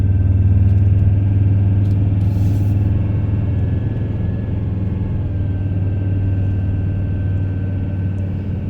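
A 4x4 drives through the Big Desert in Victoria toward a hilltop camping spot, its engine a steady loud low rumble with road and tyre noise running unbroken throughout, no talk over it.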